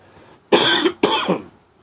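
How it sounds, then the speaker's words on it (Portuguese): Two rough, forceful coughs in quick succession, close and fairly loud, with quiet around them. "Perdoe a tosse."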